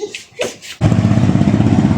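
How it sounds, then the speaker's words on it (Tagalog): After a few brief sounds, a Mio i 125 motorcycle engine with a worn connecting rod and loose bearing fires up close and loud, running with a rough, rhythmic knocking. "Sige nga, tok-tok ulit. Tok-tok. Ayan o. Ayan ang issue ng motor ni boss."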